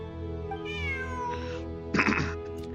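A cat meows in a video game: a clear, drawn-out mew followed by a second shorter, rougher meow, close and alone over a low steady game hum.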